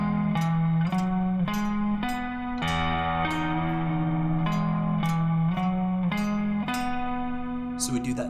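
A clean electric guitar plays the lead riff from a song, picking single notes with string bends up and down, steady and close with a touch of effects and reverb.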